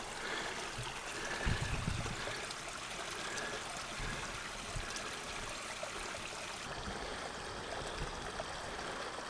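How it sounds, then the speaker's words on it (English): Water flows out of a pipe at a stream site being evaluated for a kilowatt microhydro turbine, a steady, close rushing and trickling wash that runs on without a break. "And we still have water flowing out of the pipe there."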